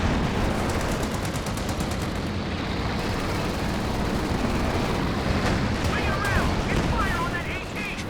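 Anti-tank guns firing in Company of Heroes 2 amid a dense, continuous wash of battle noise, with rapid gunfire crackle and booms layered throughout and brief higher whines near the end.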